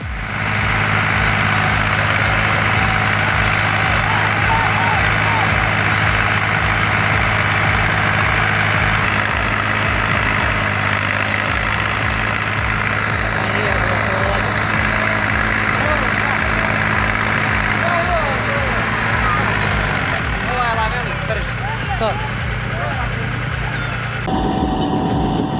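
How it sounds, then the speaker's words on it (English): An IMT 565 tractor and a Duramax truck locked in a muddy tug-of-war, engines droning loud and steady for the whole stretch, revving and shifting near the end, with a voice talking over it. "IMT 565 versus torpedo 55 inches, a brutal tug-of-war. Engines roar, tires bite deep"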